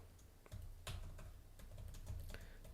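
Steady, quiet keystrokes on a computer keyboard while HTML code is typed, a close run of irregular clicks over a low background hum.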